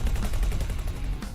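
Bolt cannons fire in rapid pulsed bursts during a space battle in the game X4: Foundations, a loud, dense, low rumbling barrage of repeated shots close up with no pauses.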